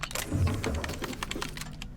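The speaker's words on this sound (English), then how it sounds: "Shuffle." Playing cards shuffled in The Outer Worlds video game, a quick run of crisp riffling clicks and flutters lasting about two seconds, close and clear without talk.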